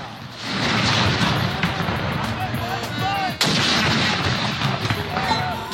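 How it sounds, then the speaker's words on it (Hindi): Cannons of a gun salute in Pakistan fire in deep booms that roll and echo across open ground, one sharp blast standing out midway, with faint voices in the background. "इस्लामाबाद में 31 तोपों की सलामी से दिन का आगाज हुआ।"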